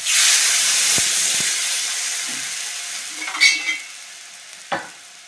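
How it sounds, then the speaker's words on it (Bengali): Water poured into a hot cooking pot of sour ripe mango chutney sets off a loud hissing sizzle that slowly fades, followed by a few light clinks and stirring sounds. "এবার জলটা দিয়ে দেবো।"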